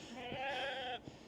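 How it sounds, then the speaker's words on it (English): A single sheep bleats once, a wavering nasal call lasting about a second, fairly faint against a quiet outdoor background. "More sheep."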